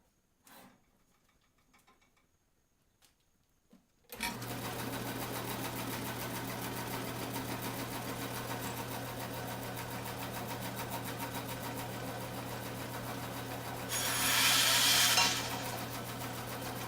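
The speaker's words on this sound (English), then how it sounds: "this saw, when I turn it on, is pretty loud" Electric saw switched on at about four seconds and running loud and steady as it trims a piece of wood, with a brief harsher rise near the end while it bites in; quiet handling sounds before it starts.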